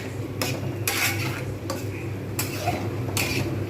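A utensil stirs food in a cooking pot with salt and sugar added, making several distinct scraping, clinking strokes against the pot at an irregular rhythm, close and moderately loud.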